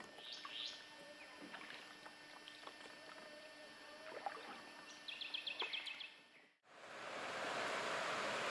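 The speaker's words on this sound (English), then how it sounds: "Except for the sound of the boat." A canoe moves on a quiet river, with a soft engine-like hum, paddle splashes and brief knocks, plus a run of rhythmic taps near the end. Then a sudden shift to loud, steady rushing water.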